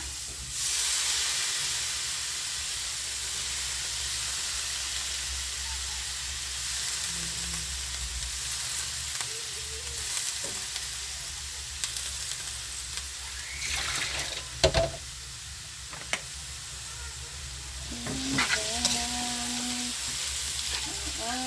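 Chopped cabbage fries in a hot pan, giving a loud, continuous sizzling hiss with occasional stirring scrapes and clatters toward the end.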